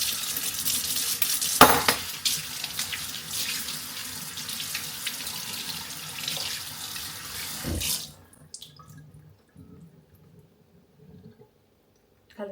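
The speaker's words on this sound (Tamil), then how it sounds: "இப்போ நாங்கள் வடிவாக தண்ணியில் கழுவி எடுங்கோ." A kitchen tap runs steadily while radishes are rinsed under it, a loud continuous rush of water with brief splashes, then the flow stops and leaves faint handling noises.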